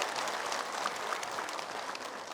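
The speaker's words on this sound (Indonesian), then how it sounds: "selesai. Tepuk tangan." A studio audience at an Indonesian religious TV show claps in faint, steady, continuous applause, heard from a distance with little else over it.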